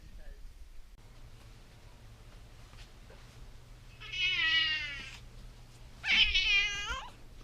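A hospital cat gives two loud, drawn-out meows a couple of seconds apart, each with a rising and falling wail, against a quiet room with a low steady hum.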